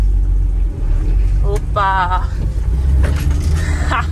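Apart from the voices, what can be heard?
ex-Dakar Volvo C303 off-road vehicle engine while driving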